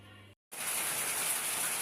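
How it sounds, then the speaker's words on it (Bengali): Steady rain pours down at night, a dense, even hiss of drops on surfaces that starts after a brief silent gap and holds at a constant moderate level. "তো বৃষ্টি পড়তেছে"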